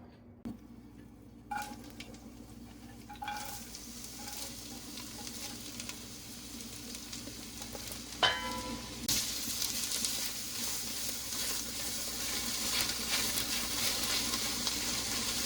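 Peppers and onions sizzle steadily in a hot pan, with occasional stirring clatter and a crackling frying sound that grows louder toward the end.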